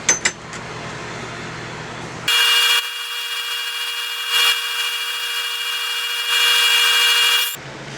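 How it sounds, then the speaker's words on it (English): Walnut and green epoxy vase being sanded on its outside, a steady loud abrasive whir with a few brief surges, starting after quieter handling sounds and cutting off near the end. "We're going to sand the outside."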